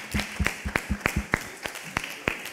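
A small audience at a university talk claps sparsely, producing a handful of separate, irregular hand claps at moderate volume with little else around them.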